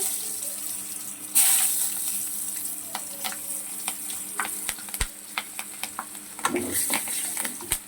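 Turmeric and green chilies going into hot oil for perugu pachadi, a steady close sizzle with scattered sharp ticks and a brief louder hiss burst near the start, plus a stirring clatter toward the end.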